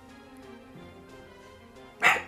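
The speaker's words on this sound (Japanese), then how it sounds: "フラさんがね、雨が止んだから散歩連れてけっつって騒いでらっしゃる" A single sharp dog bark rings out near the end, loud and close, after a quiet stretch of low room hum.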